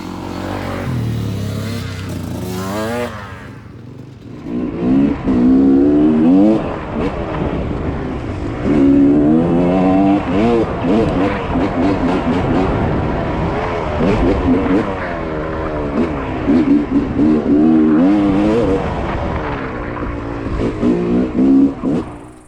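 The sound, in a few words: Yamaha YZ250 two-stroke dirt bike riding on trail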